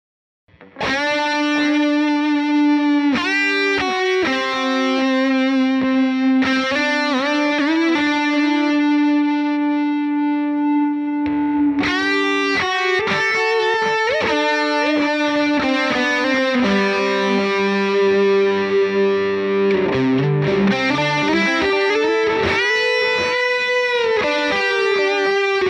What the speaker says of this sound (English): I just want to show you like really sustainy gained out sound with a delay in the effects loop of a SLO